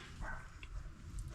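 Dogs bark in the distance, a few faint, scattered yaps rising over low rumbling background noise.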